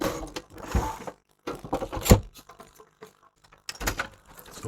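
Screws are backed out of the case of a 1990s Kenwood DP-3020 CD player, close-up faint ratcheting clicks and scrapes in short irregular bursts separated by brief pauses.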